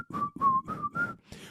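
A single person whistles a short, bright tune of four sustained notes and a brief fifth, close and clear with no other sounds.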